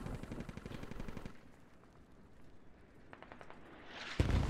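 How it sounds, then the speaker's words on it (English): A 120 mm mortar fires in the military shooter game Squad, landing as one heavy, close boom near the end after rapid bursts of game gunfire and a quieter stretch. "Yeah, it's the mortar. 120 millimeter."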